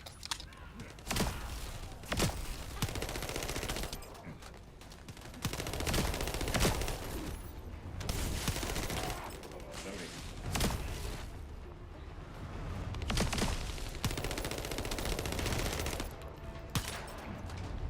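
Rapid automatic gunfire fills a firefight in The First Descendant video game, dense bursts of loud shots with short gaps between volleys and occasional heavier thuds.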